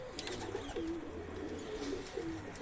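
Pigeons coo in a loft with nesting pairs, low repeated warbling calls close by, steady and unbroken against a soft background hum.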